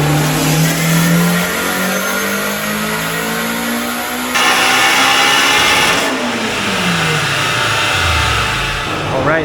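A car with a stock K20 engine and stock fuel system runs on 93 octane on a dyno, revving loudly with rising engine pitch, a brief shift-like drop partway, then a fall-off as the pull winds down.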